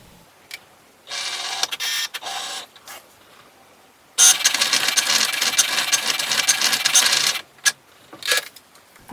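A Cricut Maker 3 cutting machine runs, giving bursts of fairly quiet whirring and mechanical motor noise with short pauses between passes, close by and without talk.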